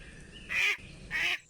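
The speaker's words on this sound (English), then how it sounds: "Where is the duck?" A duck quacks twice in quick succession, two loud nasal calls close by with a short gap between them.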